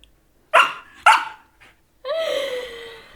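A dog indoors lets out two sharp, close barks in quick succession, then a drawn-out high whine after a short pause.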